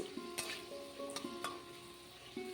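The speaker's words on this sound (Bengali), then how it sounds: "এবার গরম তেলের মধ্যে দিয়ে দিলাম, আর হলুদ আর লবণ দিয়ে খুব ভালো করে লাল লাল করে ভেজে তুলে নেব।" Something frying in hot oil with turmeric and salt for a vegetarian papaya ghonto, a soft steady sizzle punctuated by several sharp clinks and scrapes of a utensil against the pan, no voices.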